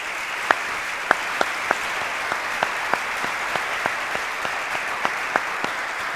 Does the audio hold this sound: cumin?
no